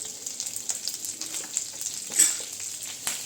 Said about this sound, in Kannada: ನಾನು ಕ್ಯಾಪ್ಸಿಕಮ್ನ ಸಪ್ರೇಟಾಗಿ ಫ್ರೈ ಮಾಡಿ ಸಾಫ್ಟ್ ಆಗೋ ತನಕ ಫ್ರೈ ಮಾಡಿ ಸೈಡಿಗೆ ಇಡ್ತಾ ಇದ್ದೀನಿ